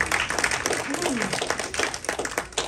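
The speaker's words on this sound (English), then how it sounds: "Come on and give the Lord a hand clap of praise." A church congregation claps its hands in praise during a home-going service, a steady stream of close, overlapping claps mixed with a speaking voice.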